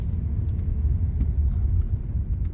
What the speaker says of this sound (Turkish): Doblo tarzı bir araba.